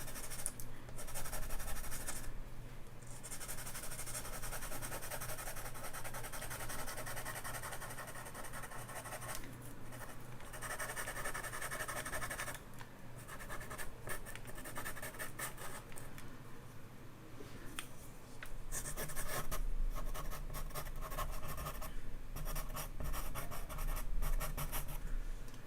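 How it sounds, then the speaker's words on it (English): PanPastels being rubbed and worked across paper with a sponge or tool, a steady soft scratchy scrubbing that runs continuously and close, with brief pauses and slightly louder bursts near the end. "So this is where I'm, adjusting now what I put down with the Panpastels."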